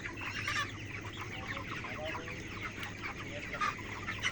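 Chickens on a poultry farm with a flock of around two thousand birds: continuous overlapping clucks and short calls from many hens at once, close and busy against a low steady hum.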